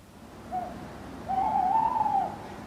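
A drawn-out, wavering barn owl call, slightly hoarse, preceded by a short softer note, heard alone against a quiet low rumble.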